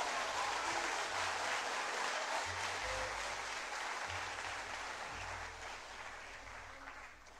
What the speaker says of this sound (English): I'd like to ask the audience to hold applause until the end of the debate, except for right now, you may show your love